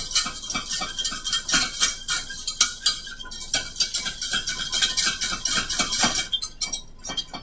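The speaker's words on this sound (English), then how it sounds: "I'm just going to mix this together until you see it kind of all clumps up together." Cocoa powder mixture being stirred in a pan for chocolate gravy, a steady scraping and clinking of utensil against cookware, close and continuous throughout with no talk.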